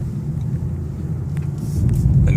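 A 2015 Infiniti Q50 on the move, heard from inside as a steady low road rumble and engine drone that swells slightly toward the end.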